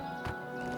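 Horse hooves clopping in the game Oblivion Remastered, a quiet, steady clip-clop under a continuous musical or ambient bed, with a faint whinny-like swell in one brief moment.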